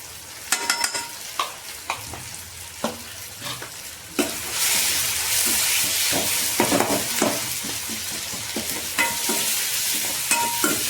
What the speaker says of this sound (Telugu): ఇప్పుడు మెత్తగా తరిగిన టమాటాలు చిన్న ముక్కలు, ఇప్పుడు కొంచెం ధనియాలు కూడా వేసుకుందామండి